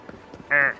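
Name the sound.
crow calling in a video game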